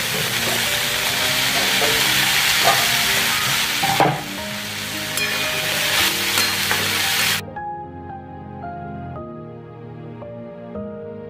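Chili flakes and tomato hit a hot pan of frying onion and cabbage, giving loud continuous sizzling and stirring scrapes that suddenly drop to a quieter simmer with a faint steady tone.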